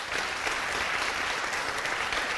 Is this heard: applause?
yes